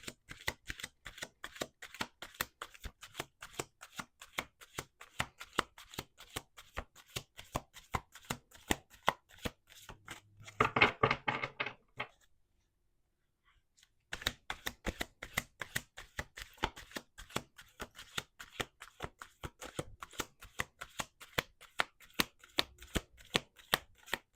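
Rapid riffle shuffles of a card deck, dense crisp flutters in quick bursts with a short quiet pause midway, close and fairly loud.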